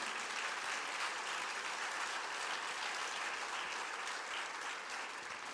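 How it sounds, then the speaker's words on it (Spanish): Applause from a church congregation fills the space after a sermon passage, a steady dense wash of many hands clapping for several seconds, fairly distant and even, with no voices over it. "Denle un aplauso ahí al Señor."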